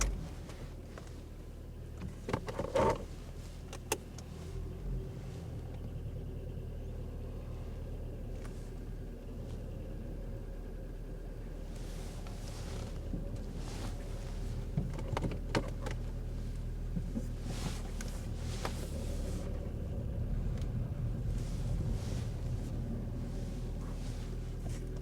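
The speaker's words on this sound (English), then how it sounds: "let's go for a little drive." A salvage Seat Ibiza under way gives a steady low engine and road rumble with wind noise, heard from inside the car and continuing without talk.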